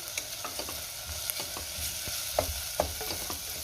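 Ground masala paste being sautéed with onion in a pan for a spicy amti, a steady close sizzle broken by scraping stirs and a few sharp spatula knocks, with no talking.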